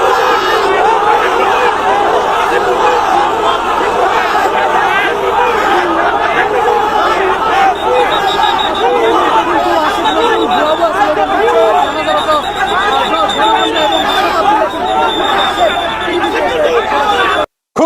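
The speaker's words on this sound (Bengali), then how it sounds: "ভুয়া ভুয়া স্লোগান দেয়" A large protest crowd chants "bhuya bhuya" (fake, fake) in loud, sustained unison, voices massed and close, continuing steadily for the whole stretch before cutting off abruptly.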